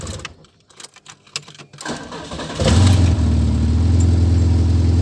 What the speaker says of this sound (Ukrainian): Отаке ужасне троєння. Мені здається, що так як два циліндри взагалі не роблю.